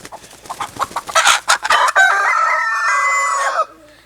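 A pretty black rooster with a small beard and a Polish-style crest clucks a few times, then lets out a loud, close crow that holds for about two seconds.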